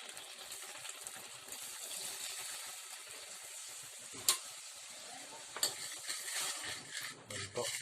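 A spoon stirs stuffed ampalaya in a pan with oyster sauce and water, a soft steady sizzle with a few sharp clicks of utensil against the pan, no talking.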